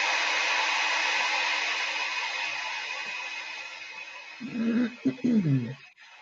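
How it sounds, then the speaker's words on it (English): A heat embossing tool blows hot air in a steady, fairly loud whooshing hiss that slowly fades, then gives way to brief bumps and clatter at the end. "Wow, that's an embossing tool. That's awfully high for an embossing tool."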